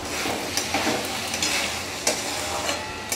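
Spices for a vegetarian chickpea dal fry on low heat in a pan, a steady sizzle broken by quick scraping stirs and small clatters, close and fairly loud.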